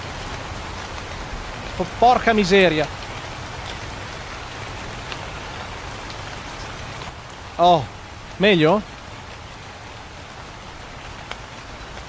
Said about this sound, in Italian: Bello l'effetto della pioggia.